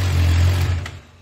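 A newly replaced starter motor on a Suzuki motorcycle cranks with a loud, close, steady whirring hum that weakens and drops off near the end.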